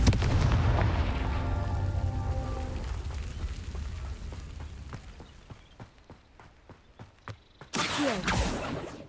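Explosive Confringo spell blasts from the Hogwarts Legacy video game: a loud booming burst with a rumbling tail, then a run of sharp clicking impacts, and a second loud burst at the end.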